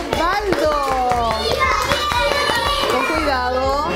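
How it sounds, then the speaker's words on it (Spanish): Classroom children clap for a classmate, with scattered hand claps mixed into lively children's voices and chatter close by. "Un aplauso para Osvaldo."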